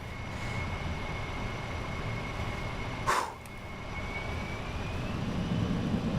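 Concorde airliner engines idling while taxiing in Microsoft Flight Simulator, a steady droning roar with a whining tone, one brief sharp click partway through, and the rumble rising slightly toward the end.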